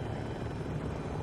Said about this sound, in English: Oh, I'm in an attack chopper.